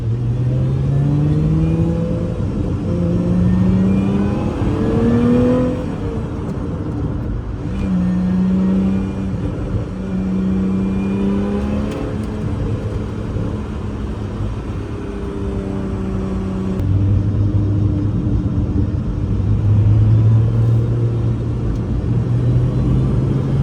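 A Lotus Emira circling the Pitt Race track on a cool fall day, its engine droning loudly and steadily from inside the cabin, pitch climbing and falling through repeated gear changes and braking for corners, with no talking.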